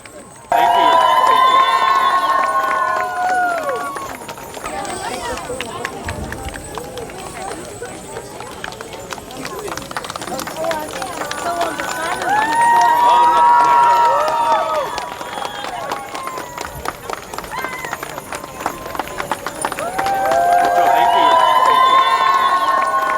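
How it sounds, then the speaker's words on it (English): An outdoor crowd at a Hmong American freedom celebration cheers and shouts for arriving veterans, loud waves of cheering swelling and easing in three surges, with voices throughout. "let's cheer them on when they come"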